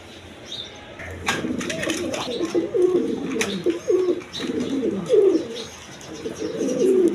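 A pair of Mosoldom pigeons coo close by, their low, rolling calls repeating steadily in soft bursts, with a few wing flaps and faint chirps in the background.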